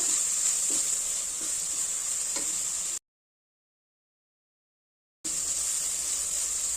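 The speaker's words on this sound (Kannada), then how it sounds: "ಖಾರಕ್ಕೆ ಮೆಣಸಿನ್ಕಾಯಿ, ಒಂದು 2 ನಿಮಿಷ ಸ್ವಲ್ಪ ಫ್ರೈ ಮಾಡಬೇಕು." Green chillies and curry leaves fry in hot oil, a faint steady high hiss with occasional small ticks, cut by a stretch of total silence before the sizzle resumes.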